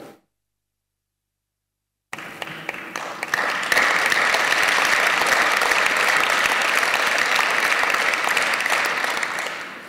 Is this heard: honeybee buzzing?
no